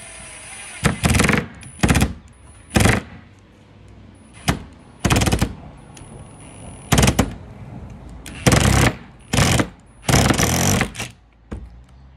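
An impact driver fitted with a Ryobi impact bit drives a screw in a series of loud, rapid hammering bursts, about a second each, broken by short pauses.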